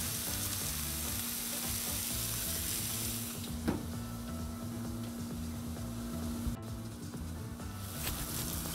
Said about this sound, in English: So we get them down, get them spread out all in the oil, and check them